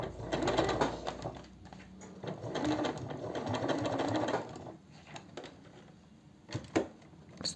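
A sewing machine stitches fabric, leftover scraps being sewn into a cosmetic organizer bag, with a close, steady mechanical whirr in runs that stop and restart, briefly pausing mid-way before short bursts near the end.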